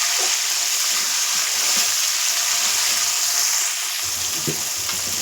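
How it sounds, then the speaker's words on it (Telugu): Small tomato pieces fry in hot oil with a loud, steady, close crackling sizzle that runs without pause, dipping slightly near the end, with a few faint clinks and no voices. "ఈ విధంగా టమోటా కూడా వేయించుకోవాలి"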